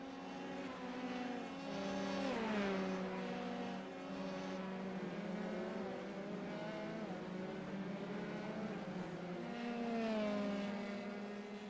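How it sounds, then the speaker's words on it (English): Formula 3 race cars in the iRacing sim at Imola, engines droning and revving in long rising and falling sweeps as they pass, steady and fairly loud with no talk over them. "They do sound nice, these cars."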